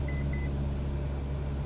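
Two short, faint electronic beeps sound in a flight cockpit as the autopilot engages, set against a steady low engine drone.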